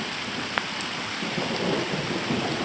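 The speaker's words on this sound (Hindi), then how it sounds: "खतरनाक बारिश लगी है, खतरनाक।" Heavy monsoon-style rain pours steadily as a dense, even hiss with a low distant thunder rumble underneath, holding at constant loudness throughout with no voices.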